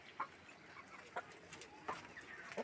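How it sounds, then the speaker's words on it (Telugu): Free-roaming chickens cluck softly in short bursts about once a second, with a quiet background between calls and no talk. "కోళ్ళు అన్నీ వస్తున్నాయి"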